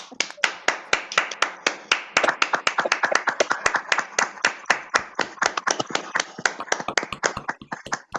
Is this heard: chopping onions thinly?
no